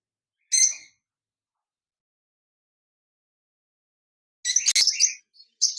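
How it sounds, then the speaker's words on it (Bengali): A pair of lutino opaline lovebirds at a bird farm give two bursts of sharp, high chirping calls, a short one early and a longer, busier run near the end, separated by several seconds of silence. "এখানে দেখতে পাচ্ছেন একজোড়া লটিনো অপার লাইন লাভবার্ড পাখি রয়েছে।"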